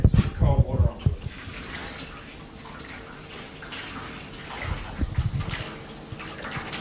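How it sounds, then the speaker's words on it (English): Cold water is poured and sprayed onto a hot metal drum, giving a rushing, hissing splash that swells and fades, with bursts of people talking and exclaiming over it. "get some cold water onto it"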